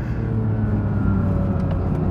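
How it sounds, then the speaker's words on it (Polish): A Porsche 911 GT3 engine roars steadily at high revs, revving toward 9000 rpm, loud and close, with a continuous droning tone and no voices. "Boże, jak ten silnik brzmi!"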